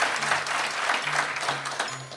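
Audience at a live tech talk applauds in a steady burst of clapping lasting a couple of seconds, moderately loud, with no speech over it.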